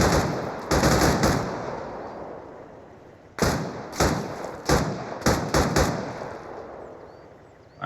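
Bursts of gunfire ring out in a video game firefight, loud and close: a sustained volley near the start, then a run of sharp separate shots and short bursts, each with a booming tail and quiet gaps between.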